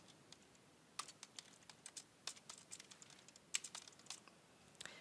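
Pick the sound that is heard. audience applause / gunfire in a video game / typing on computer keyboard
typing on computer keyboard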